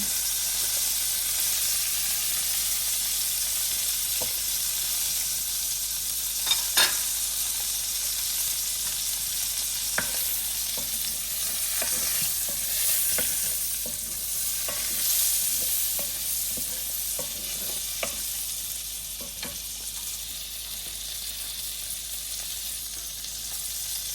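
Butter sizzling in a pan while cod cooks, a steady close hiss of frying that runs throughout, with faint clicks and stirring touches scattered through it.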